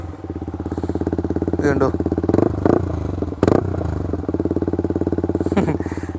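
Yamaha MT-15 motorcycle with an Akrapovic R1M full-system exhaust and no dB killer, idling close with a loud, rapid rumbling pulse, punctuated by several sharp throttle blips; someone speaks briefly over it.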